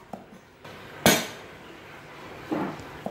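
A purple shallot is smashed flat with a knife in a home kitchen while preparing a vegetarian braised straw mushroom dish. Two sharp, close thuds land over a quiet background.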